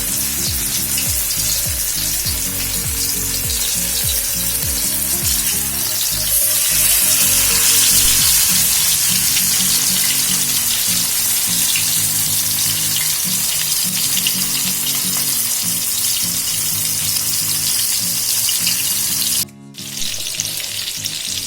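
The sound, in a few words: sankara fish frying in oil on a dosa griddle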